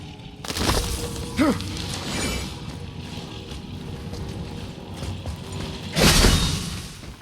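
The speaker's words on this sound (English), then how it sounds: "shattering things with this." Objects shattering in the God of War video game, with two loud broadband crashes near the start and a stronger break toward the end over steady game ambience.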